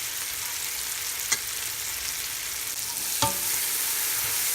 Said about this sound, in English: So let the tomatoes cook for 2 more minutes